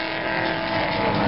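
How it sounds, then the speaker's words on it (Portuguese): A safety car drives around the Interlagos circuit during the 2011 opening round of the Copa Chevrolet Montana, its engine a loud, steady roar that swells slightly over the brief moment. "Ali vem o safety conduzindo"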